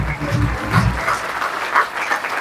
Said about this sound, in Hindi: ताली धीमी बज रही है